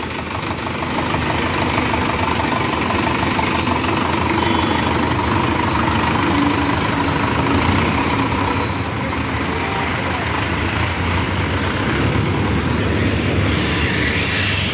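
A Mahindra Novo 605 DI tractor engine idling nearby, a loud, steady diesel rumble with an even low throb that holds constant throughout.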